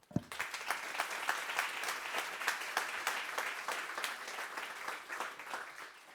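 An audience at a corporate seminar claps for a panel of four speakers, a steady round of fairly close applause that starts abruptly and holds evenly for several seconds.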